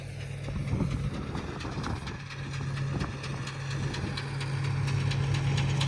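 A tractor engine idles in a steady low hum with a rhythmic knocking pulse, continuous and fairly close, with faint clatter as the clutch is worked.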